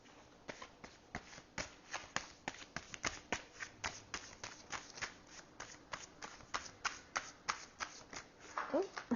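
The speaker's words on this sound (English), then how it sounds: "Let's pull 3 more cards." Tarot cards from a Wildwood deck shuffled and pulled: a long run of rapid, even card slaps and riffles, close but soft, ending in a brief sliding flurry, with a voice talking at times.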